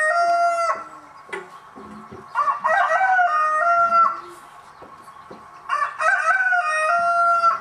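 A rooster crows loudly several times in succession, each call a drawn-out, strained cry, with a few softer clucks between them.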